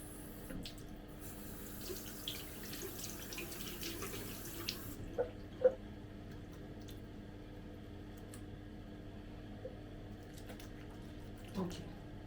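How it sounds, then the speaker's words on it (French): Faint, steady running tap water from a sink as a face mask is rinsed off during an evening skincare routine, a soft continuous wash with occasional small splashes and squishes close by. "il est temps de rincer"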